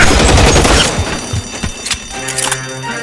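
Shotgun fire in the video game L.A. Noire: a loud, close burst of blasts opens the moment, followed by a few scattered sharper shots and some mechanical clatter.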